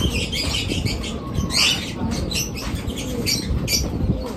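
Domestic racing pigeons at a home loft give scattered squawks and soft calls, with occasional wing flutters and light pattering, fairly close and continuous.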